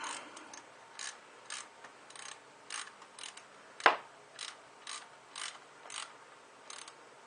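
Ratchet tightening the lower radiator hose clamp on a 2001 Dodge Dakota 4.7L, a steady series of short, evenly spaced clicking strokes close by, with one sharper metallic clack midway and no speech.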